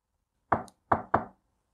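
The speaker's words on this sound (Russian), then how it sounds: "Негромкий стук согнутого пальца в ушах отозвался набатом." Three quiet knocks of a bent finger on a door, a single rap followed by two quick ones close together, near and alone in silence.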